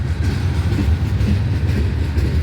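A freight train rolls through Abbeville, South Carolina, with a steady heavy rumble and faint clickety-clack of wheels close by, and no voices.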